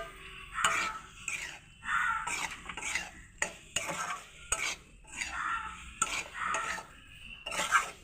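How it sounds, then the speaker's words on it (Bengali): Soybean curry being stirred in a pan, with repeated scraping and clinking of a utensil against the metal alongside a light sizzle, in an uneven rhythm of strokes, close up and without talk. "ভালো করে একটু কষলাম নাড়াচাড়া করে"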